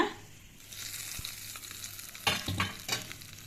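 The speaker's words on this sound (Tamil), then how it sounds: "இது நம்ம தாளிச்சிக்கலாங்க." Ground ridge gourd chutney being tempered in a pan, with hot oil sizzling steadily and bursts of crackling and stirring scrapes toward the end.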